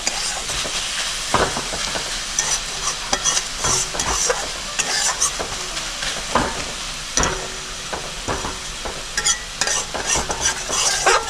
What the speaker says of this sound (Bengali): গ্যাসটা একদম কম করে দিয়েই ভাজছি, না শাকটা পুড়ে যাবে।